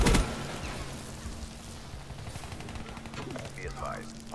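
A Guardian in Call of Duty: Black Ops III multiplayer fires a sharp burst that opens the clip, followed by a continuous rattle of gunfire and scattered shots across a busy battlefield.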